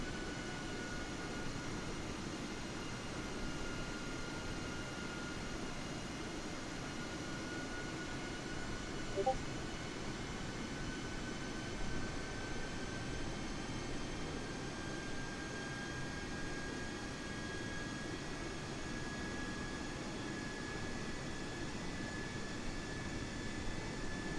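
Cabin noise aboard an Air Canada Airbus A320neo at cruise altitude is a constant, even broadband roar with a faint steady hum that holds unchanged throughout, with no voices.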